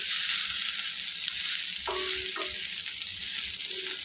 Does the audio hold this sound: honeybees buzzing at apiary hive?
no